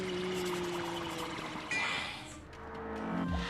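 Water poured for drinking, a short, close pouring splash and trickle that rises and swirls over a few seconds, under a faint background hum.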